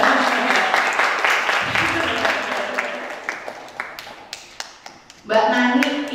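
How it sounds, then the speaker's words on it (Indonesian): Audience applause at a literary discussion event on literature and disability, starting as a steady clapping crowd that thins to a few scattered claps before a short fresh burst, with a voice speaking over the start. "teman-teman juga boleh tepuk tangan untuk Mbak Nani ya."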